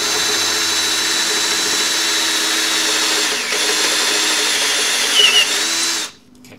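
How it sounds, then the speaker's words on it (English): A power drill whines steadily for several seconds drilling a 1/2 inch hole in a 2017 Harley motorcycle part, close and loud, with a brief dip midway before the motor cuts off near the end. "We're going to drill this out to a 1/2 inch hole for the switch to mount"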